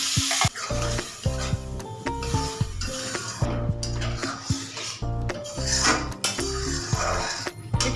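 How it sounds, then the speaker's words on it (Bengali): Boiled lentils tipped into a pan of hot spiced oil and stirred: loud, busy sizzling with metallic clinks and scraping against the pan, and tonal ringing hum underneath throughout, with no talking. "ডালটা সেদ্ধ করা ডালটা দিয়ে দেবো।"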